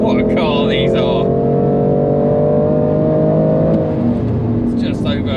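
A BMW M2 engine pulls hard on a race track, a loud sustained drone with steady harmonics rising and easing through the run while someone talks over it from inside the car.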